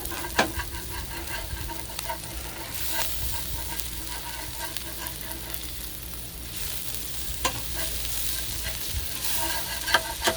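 Smashburgers frying on a 17-inch Blackstone griddle at a campground, a steady close sizzle broken by sharp scrapes and taps of a spatula against the flat top.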